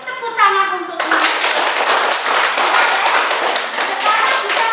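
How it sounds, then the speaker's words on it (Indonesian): Children in a classroom lesson clap together in a rapid, clattering burst that starts after a brief sung or chanted bit of voices and continues steadily to the end, with some young voices mixed in. "Tepuk tangan untuk ini."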